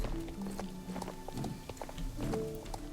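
Horse hooves clip-clop at a steady walking pace in a video game, with a horse snorting now and then. The footfalls are close and moderately loud, and no one talks.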